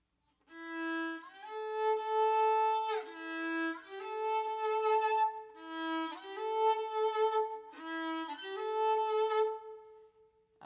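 A bowed string instrument plays a repeated phrase of sustained notes, each shift marked by a quick slide into the new pitch, close and clear with no talking.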